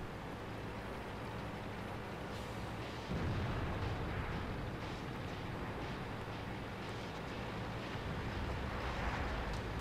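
Distant artillery fire in the tank battle game World of Tanks, muffled booming blasts over a constant low rumble, with one heavier impact partway through and no voices.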